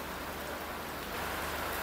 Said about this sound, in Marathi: जो मुसळधार पाऊस पडतो सकाळपासून तो कंटिन्यू आहे